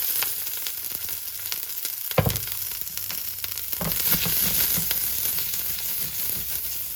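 Capsicum and onions fry in vegetable oil with a steady, close sizzle, broken by a few louder crackles and stirring clatters in the pan; no voices.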